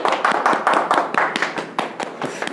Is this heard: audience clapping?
yes